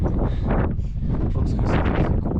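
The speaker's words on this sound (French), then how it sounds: "Ressenti le vent très glacial." Icy wind buffeting the microphone on a high mountain climb toward the Zumsteinspitze, a loud constant low roar with gusty surges and no clear speech.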